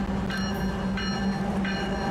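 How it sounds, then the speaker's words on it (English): A freight train hauled by Union Pacific locomotives rolls past at Lansdowne, a steady loud rumble with a low engine drone and repeated metallic squeals from the cars. "I'm set up down at Lansdowne to catch this"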